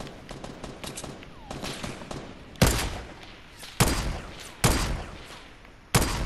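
Sniper fire in Fortnite Battle Royale: several sharp, loud single shots ring out about a second apart, after a stretch of lighter, quicker distant gunfire.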